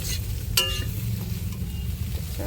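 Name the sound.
stirring water lily stems with shrimp frying in a pan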